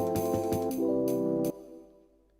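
Jungle drum break programmed in Ableton Live, driving rapid kick and snare hits in a tight repeating pattern over a sustained bass tone that cuts off and fades out, loud and upfront with no voices.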